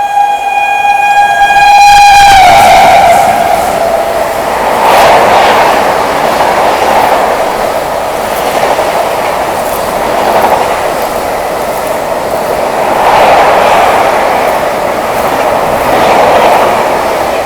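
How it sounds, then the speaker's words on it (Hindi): Ranchi-New Delhi Rajdhani Express overtaking at speed in heavy rain, a loud horn blast at first giving way to a sustained roaring rumble and rhythmic clatter of passing coaches, close and continuous. "रांची राजधानी का ओवरटेक भाई गजब की रफ्तार में निकली"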